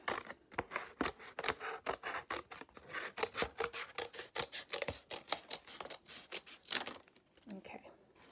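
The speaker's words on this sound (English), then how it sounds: "take your scissors and you're going to cut out this middle part of the plate" Scissors cut through a paper plate in a quick series of crisp, close snips with a rasping papery edge, fairly quiet and steady, ending with a bit of rustling.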